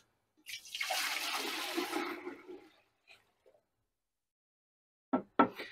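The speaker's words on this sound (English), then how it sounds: "We're going to add our water right in." Water poured into a large brewing pot, a gushing splash lasting about two seconds then tapering off, followed by a few faint clinks and two short knocks near the end.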